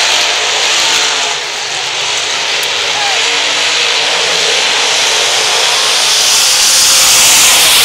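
Race cars roaring around Lakeside Speedway during a qualifier, a loud continuous engine drone that swells slightly toward the end, with an announcer talking underneath.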